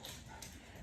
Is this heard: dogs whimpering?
yes